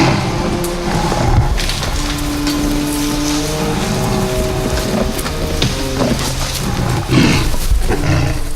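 Low, rumbling growls from a tiger, loud and close, layered over a busy background of rustling and creaking wood.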